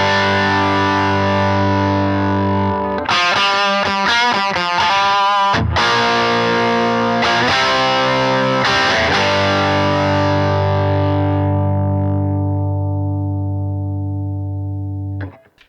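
Electric guitar played through a cranked amp model on a Tone Master Pro with treble turned all the way up, loud and distorted: sustained chords, a burst of choppy strummed hits, then a long ringing chord fading out.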